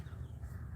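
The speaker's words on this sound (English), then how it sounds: "There's a bird on my chimney." A crow caws from a house chimney, a short, faint call heard from inside the house.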